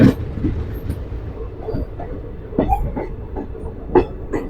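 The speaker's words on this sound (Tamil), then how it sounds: "அந்த ரயில் ஏன் மூவ் ஆகிட்டு இருக்கு" A train rolls along the rails nearby through forest in the rain, its wheels giving scattered clacks and thumps over a low rumbling background, without speech.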